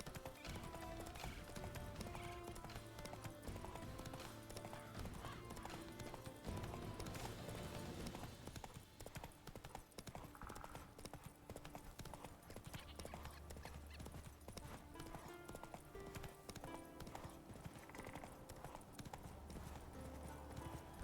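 Roach the horse gallops in The Witcher 3 video game, with rhythmic clip-clop hoofbeats and an occasional whinny set under game music and ambience, fairly faint throughout.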